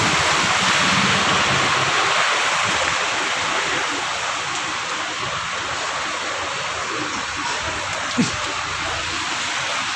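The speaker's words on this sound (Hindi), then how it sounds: "या ठिकाणी पाण्याचा महापूर आलेला आहे" Floodwater rushes along a road after heavy rain in Chikhli, Pune, a loud, constant broadband roar of flowing water filling the whole clip, easing slightly midway.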